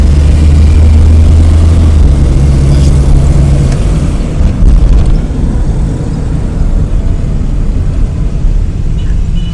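A Suzuki Mehran car fitted with an automatic gearbox drives along with a loud, steady low engine drone and heavy road rumble, the pitch shifting slightly as it pulls.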